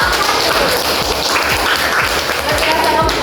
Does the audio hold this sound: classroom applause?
yes